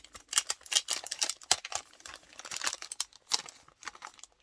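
A plastic package of scrapbooking cutting dies being opened, with close crinkling, rustling and tearing in irregular bursts and no voice.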